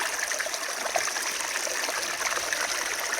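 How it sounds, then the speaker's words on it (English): Water rushes steadily through a gold prospecting sluice at a creek, a continuous close trickling and gushing flow with no talk. "The sluice is running pretty good."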